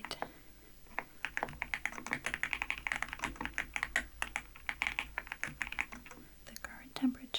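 Soft, close computer keyboard typing in quick, irregular bursts of clicks runs under faint whispered, soft-spoken talk, at a quiet level throughout.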